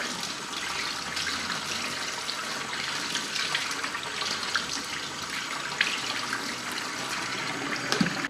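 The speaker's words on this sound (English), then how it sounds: "Just run the blades under the tap." Running tap water rinses NutriBullet blender blades at a kitchen sink, a steady close splashing hiss that continues throughout with small clinks and drips.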